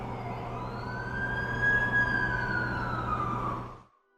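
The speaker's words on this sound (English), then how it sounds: "That's the ambulance I called." Ambulance siren in The Amazing Spider-Man 2 video game, a single wailing tone that rises and falls over a low engine rumble before cutting off abruptly.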